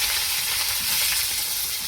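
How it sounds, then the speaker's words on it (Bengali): Fish sizzles steadily in hot oil in a pan, a dense, continuous crackling frying sound with no talk. "মাছ ভাজা হয়ে গেছে, এবার তুলে নিচ্ছি"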